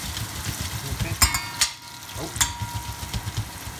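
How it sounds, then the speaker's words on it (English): Onions added to hot oil for a calabrese and sweet potato stew, sizzling and crackling steadily up close, with a few sharp clinks of a utensil against the pan along the way. "let's go in with the onions. Bit of sizzle there, so we know we're up to the right temperature."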